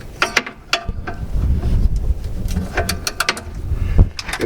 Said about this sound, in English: And tighten it down with the electric ratchet.